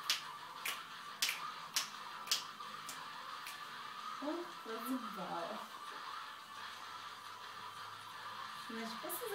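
Several crisp finger snaps ring out in a quick, irregular series near the start, made by someone with outstretched arms, before a voice talks over faint background noise.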